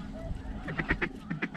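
A single goose honks several times in quick succession during a duck and goose hunt, the calls close and fairly loud over low background noise.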